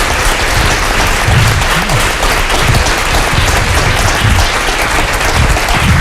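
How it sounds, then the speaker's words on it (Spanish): Closing applause from an audience at a book talk, dense, sustained clapping throughout, steady and fairly loud with no break. "Un aplauso final."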